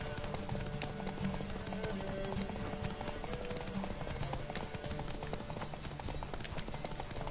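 A horse galloping in The Witcher 3, its hooves beating a fast continuous clip-clop over a dense game soundscape, steady and close for several seconds, with no speech on top.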